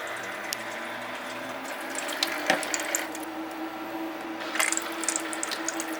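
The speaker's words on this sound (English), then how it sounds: "Let's go ahead and put some water in and try it out" Water is poured into an ecozy countertop ice maker, making a soft splashing trickle over a low mechanical hum. Now and then a clack of plastic or the lid is heard, and a burst of splashing comes near the end.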